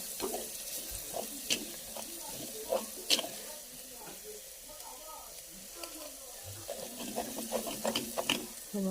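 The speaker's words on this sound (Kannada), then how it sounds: "ಇವಾಗ ಜೀರಿಗೆ, ಕರಿಬೇವು, ಅರಿಶಿನ ಪುಡಿ ಮತ್ತು ಸಾಸಿವೆ ಒಟ್ಟು ಒಮ್ಮೆ ಹಾಕೊಂಡ್ಬಿಡೋಣ ರೀ." Cumin, curry leaves, turmeric powder and mustard seeds sizzle and crackle in hot oil for a South Indian tempering, faint and intermittent, with stirring clinks and a little background movement.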